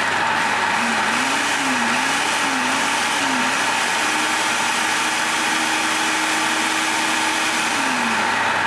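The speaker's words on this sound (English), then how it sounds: "I'll blend that until smooth." A steady, loud blender motor whir runs throughout, with a wavering pitch early on that then settles into an even drone as it purées to smooth.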